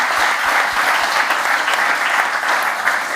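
A studio audience claps steadily throughout, a dense, even wash of applause at close range with no voices over it.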